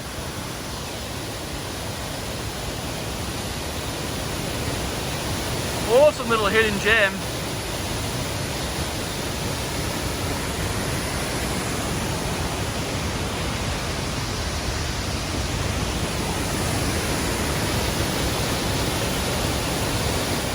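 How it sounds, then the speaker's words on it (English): Steady broadband rush of a small waterfall in a mossy gorge in the French Pyrenees, filling the space, with a brief spoken remark partway through. "really gorgeous little waterfall in this really mossy environment"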